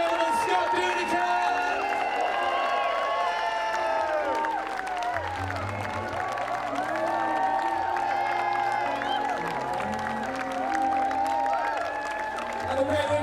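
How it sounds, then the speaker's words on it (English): A festival audience at Shrewsbury Folk Festival 2025 claps and cheers loudly after a folk band's set, sustained applause and whoops layered with ringing music tones and a low bass line throughout. "Give yourselves a massive round of applause"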